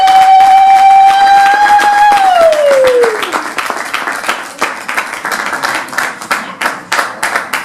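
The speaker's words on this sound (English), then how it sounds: "Let's give Request a big round of applause" Applause from the audience at an awards ceremony crackles for a winner. It comes in as a rush of clapping after a sustained electronic tone slides downward, then goes on as fairly dense, moderately loud claps to the end.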